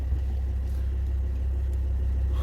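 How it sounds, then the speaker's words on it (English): Heater blower fan in a Volvo XC60 runs at high speed after repair, a steady low rumbling whir with a constant drone and no voices. "the fan is operating at high speed and very, very nicely"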